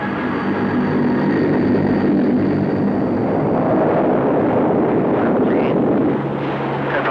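RAF aircraft taking off: a loud, dense, constant engine roar with wind buffeting, close and unbroken throughout, a faint high whine riding on top, no talk.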